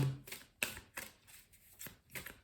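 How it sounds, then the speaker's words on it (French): Tarot cards being shuffled in bursts, several quick riffling and sliding passes of the deck close by, with short pauses between them and no talking. "je prends l'Albano Way Tarot pour le tirage général"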